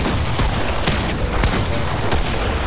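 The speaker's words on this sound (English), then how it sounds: "Should we just shoot down here so they come down here?" Sustained Fortnite gunfire in a battle royale match, a dense run of rapid shots with sharp louder bursts standing out, loud and close throughout with no talk.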